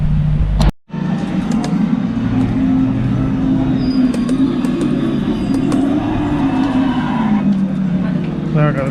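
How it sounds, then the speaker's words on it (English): Two Audi R8 cars race each other, their engines producing a steady, loud droning roar that rises and swells across the run, with a brief dropout near the start. "There I've got the two boys racing each other in the Audi R8s."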